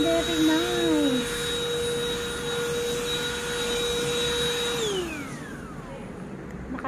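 A handheld wireless vacuum cleaner runs with a steady high-pitched motor whine and airflow hiss, then winds down as it is switched off near the end, loud and close.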